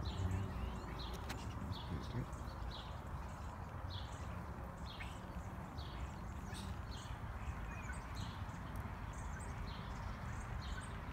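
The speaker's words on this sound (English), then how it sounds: "You can hear them chirping outside." Birds chirp in spring in short, repeated calls at a distance, steady through the clip over a low outdoor rumble.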